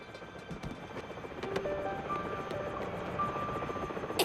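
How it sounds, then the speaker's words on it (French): Helicopter sound in the Transformers Prime cartoon, a rotor chop carrying steadily through a busy mix of tones and effects, fairly loud and continuous for a few seconds without speech. "un nouveau sauvetage époustouflant signé Danny Burns et son robot hélicoptère."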